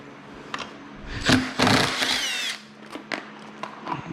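A power tool removes the bolts holding the stock bag on an XR650L motorcycle, giving a few short close bursts of whirring with brief pauses between them.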